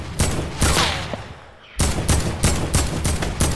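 Rapid bursts of video game gunfire crackle in dense volleys, a brief lull near the middle, then repeated loud shots resume, close and steady, with no talking.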